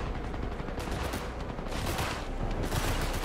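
Dense, sustained gunfire in the video game Cyberpunk 2077 fills the scene with overlapping shots and surging bursts, with no talk, as a firefight rages nearby.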